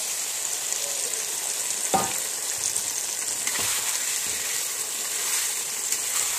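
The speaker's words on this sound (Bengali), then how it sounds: "আমি এবার এটাতে মাংসটা দিয়ে দিচ্ছি।" Meat frying in a pan with already browned onions gives a loud, continuous close sizzle, broken by a few sharp scrapes of a stirring utensil.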